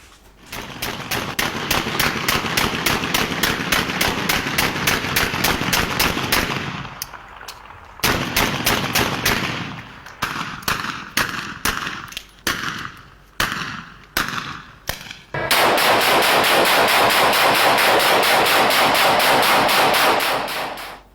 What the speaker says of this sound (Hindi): नशे में धुत शख्स की हवाई फायरिंग।